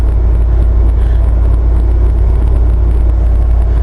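LS3 V8 in a Jeep JK cruising steadily at 45 mph, 1300 RPM in sixth gear with cruise control on, a constant low engine rumble and road drone from inside the cabin, unbroken and fairly loud throughout.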